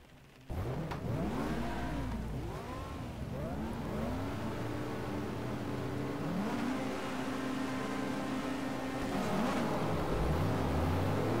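Several race cars in BTCC 1997, a touring car racing game, roar off the line at a rainy Silverstone race start, with loud engines revving and rising in pitch, overlapping and sustained throughout.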